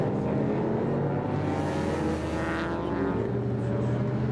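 Historic sports cars including a De Tomaso Pantera and a TR3A race past on a circuit at Winton, a loud sustained engine roar with a rising and falling pass-by sweep, under a commentator's voice.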